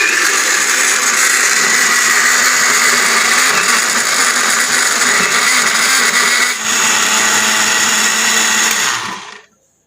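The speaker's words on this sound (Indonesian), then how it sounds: "Blender." A blender grinding spice paste with shrimp and a little water whirs loudly and steadily for several seconds, its motor pitch shifting slightly partway through, then it cuts off abruptly.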